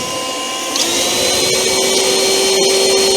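A STIHL battery leaf blower runs close by with a steady, loud airy whine and rushing air that rises slightly in pitch partway through, continuous throughout.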